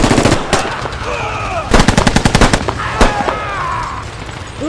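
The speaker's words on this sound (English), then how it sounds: "Someone take out a machine gunner!" Rapid machine gun bursts crackle through a plastic toy army men battle scene, with dense rattling volleys, a pause, then more sharp repeated shots and scattered whistling effects.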